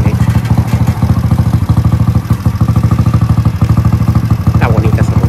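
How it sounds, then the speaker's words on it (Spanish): Orange Honda CGL motorcycle arriving on a cold road, its single-cylinder engine thumping in a fast, even, loud pulse close by, with a brief rattle near the end. "en su Honda CGL naranja. Y viene. Ahí está Carlitos con su CGL."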